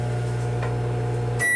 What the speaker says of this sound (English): cook my egg for 1 minute in the microwave